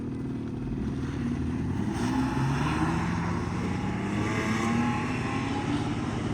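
A Yamaha Jog SA-24 two-stroke scooter engine runs steadily while riding, giving a continuous buzzing drone with slight rises in revs, heard close and alone without talk.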